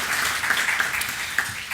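Audience applause welcoming the panelists at an arbitration law conference, a steady wash of clapping from a crowd held evenly for the whole stretch without voices.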